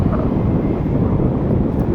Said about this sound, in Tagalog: sobrang lakas kasi ng hangin dito kaya sandstorm